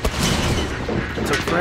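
Gunfire from an enemy in The Last of Us, a rough burst of shots over dense game noise and music, loud and continuous for the whole moment with a voice briefly audible underneath.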